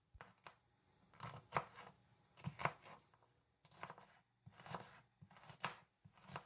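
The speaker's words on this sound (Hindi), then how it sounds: "सारी सब्जियों को छोटे छोटे टुकड़ों में काट लेंगे" Knife chopping vegetables into small pieces on a cutting board for chickpea soup, in quick bursts of crisp, close taps separated by short pauses.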